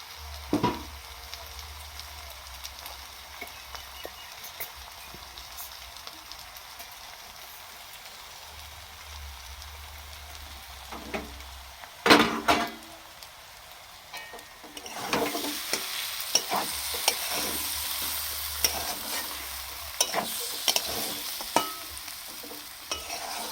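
Vegetable curry fries and sizzles steadily in a pan on a village kitchen stove, with stirring scrapes and clatters and a brief louder clank mid-way, the hiss growing fuller and brighter toward the end; no one speaks.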